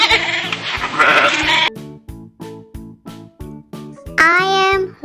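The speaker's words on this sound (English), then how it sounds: "Where is my sheep? Here, letter S. Sheep is here." A sheep bleats loudly and close, a long wavering call followed by a run of short rhythmic bleats and a final drawn-out bleat, with no other sounds around it.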